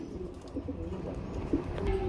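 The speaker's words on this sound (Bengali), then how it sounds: "প্রিয় বন্ধুরা আমরা এখানে এখানে আমরা দুই পিস কবুতর দেখতে পাচ্ছি" Fancy pigeons cooing at a pigeon farm, low soft repeated coos over a constant faint background murmur, fairly close.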